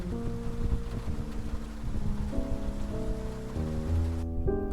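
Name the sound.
rain falling in the Face Noir video game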